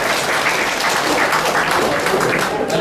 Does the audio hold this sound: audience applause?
yes